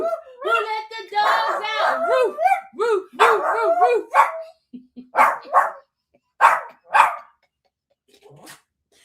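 Voices chant a repeated 'who let the dogs out' line, each time followed by a rhythmic run of five imitated dog barks, close and clear against silence.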